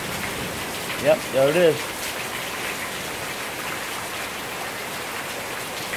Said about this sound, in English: There it is, bouncing. Hailstorm. Hailstorm in a sunstorm.